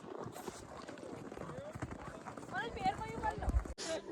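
Horse hooves clop steadily on a rocky mountain trail near Thajiwas Glacier in Sonamarg, Kashmir, close and rhythmic, with people talking over the hoofbeats throughout.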